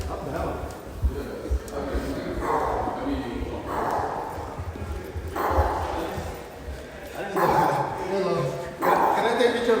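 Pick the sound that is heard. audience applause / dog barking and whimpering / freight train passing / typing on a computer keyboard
dog barking and whimpering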